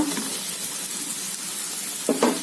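Onions and grated coconut sautéing in a pan for Tamil-style coconut rice, a steady soft sizzle with a couple of brief stirring scrapes near the end.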